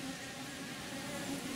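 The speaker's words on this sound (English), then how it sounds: "There's some bees here daisy chaining" Honey bees buzzing inside a beehive as they cluster and chain to build comb, a soft, even drone close by with no voices.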